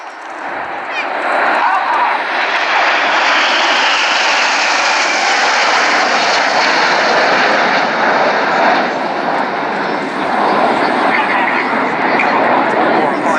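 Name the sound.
Red Arrows jet aircraft flying an air show display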